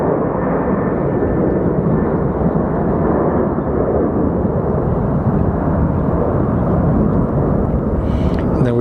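Allegiant airliner at Sky Harbor Airport, a loud, continuous low roar of jet engines heard steadily throughout with no break, dense rumble dominating the whole stretch.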